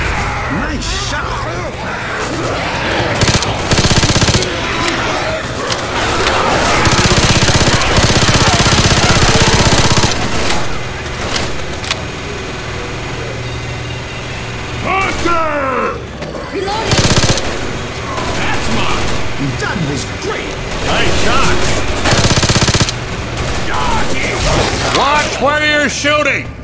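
Dense, continuous gunfire from Left 4 Dead 2 on the No Mercy campaign: rapid automatic bursts and heavy shots fill the whole stretch, loud and close, with short lulls and players talking over the shooting.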